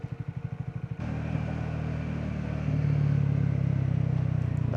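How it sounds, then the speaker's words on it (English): A motorcycle on a ride into central London, heard close from the rider's position, gives a quick series of rhythmic popping exhaust pulses, then a steady droning engine tone that swells under engine braking. "The engine brake sounds so good."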